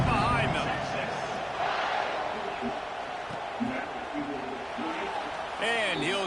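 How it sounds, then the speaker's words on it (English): Football stadium crowd at a college game, Texas versus North Carolina, murmuring and cheering before kickoff, a steady broad din with occasional louder swells, under a play-by-play commentator talking throughout. "this crowd now ready to get behind them"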